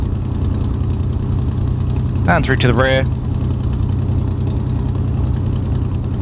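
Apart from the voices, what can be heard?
BF-109G engine running in flight simulator, video game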